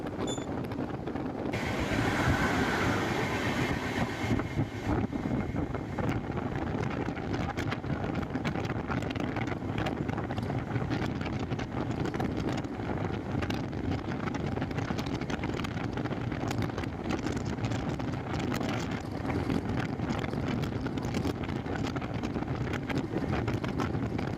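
Strong wind rushes through a Rajdhani Express sleeper coach as the train runs at high speed, a continuous roar with rail rumble underneath and no talking.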